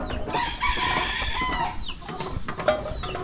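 Chickens cluck and crow steadily while being fed grain outdoors, a busy overlapping chorus of hens and roosters close by with no talk.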